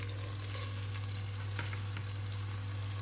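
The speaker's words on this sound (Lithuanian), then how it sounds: "dedame į įkaitintą aliejų. Ir apkepinsime iš abiejų pusių" Floured beef ham sizzles steadily in hot oil, a continuous close crackle and hiss with scattered pops and no talking.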